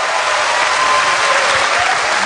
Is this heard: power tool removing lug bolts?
no